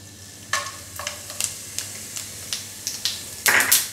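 Garam masala spices frying in a pan for egg masala curry, a low sizzle punctuated by a series of sharp spatula scrapes and crackles, louder bursts near the end.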